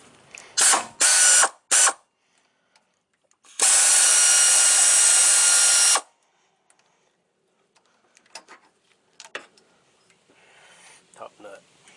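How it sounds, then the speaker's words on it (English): A ratchet wrench with a deep-well socket loosens the top nut during compressor and condenser work on a 2010 fifth-generation car: a few short loud ratcheting bursts, then one long sustained buzzing run, followed by faint clicks and handling noises. "We'll see if we can get the top nut off."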